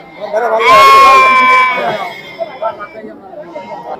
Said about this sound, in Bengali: একদম তিন পিস ভেড়া আছে